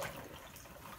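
Newspaper sheets are soaked in water for sowing flower seeds, giving a steady close wet swishing and trickling sound throughout, with no talking.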